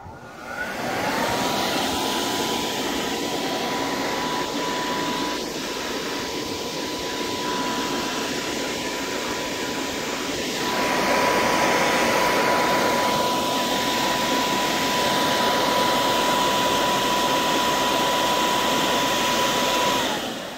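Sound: homemade foam snow machine running, blowing fake snow

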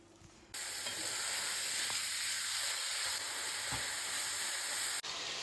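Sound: minced meat frying in a pan

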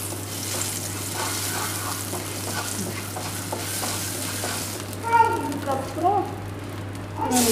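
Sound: frying garam masala and chilli powder in oil

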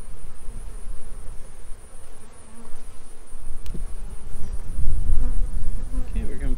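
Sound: honeybees buzzing at an open hive during a hive split

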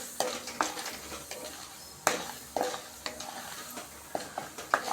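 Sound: cumin seeds and dried chili sizzling in oil

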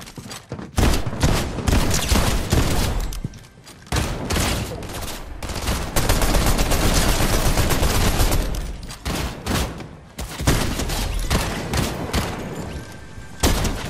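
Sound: gunfire from shooters in a video game

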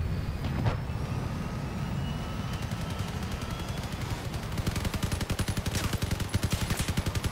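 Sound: 15 IMP machine guns firing in a video game

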